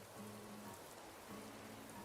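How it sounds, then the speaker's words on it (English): Heavy rain falls in the Animal Crossing: New Horizons video game, a steady, dense hiss of rain on surfaces that stays even and fairly quiet throughout, with a faint low tone beneath and no one speaking. "Looks like normal rain. It's pretty heavy though."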